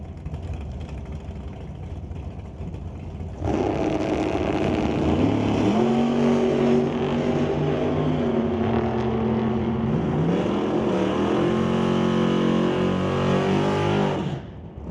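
Drag race run between a 1995 Pontiac and the Quality Racing Duster in Super Pro racing: loud engines burst in together and roar at high revs for about eleven seconds, pitch sweeping through gear changes before cutting off.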